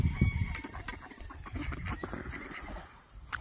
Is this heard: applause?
no